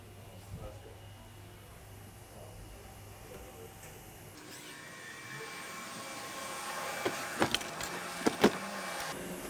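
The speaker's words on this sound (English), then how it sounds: "This is the machine shop," Machine shop at the Profile Racing bicycle parts factory, a steady mechanical hum and whine of running machines with a few sharp metallic clanks later on, heard at moderate distance while someone talks.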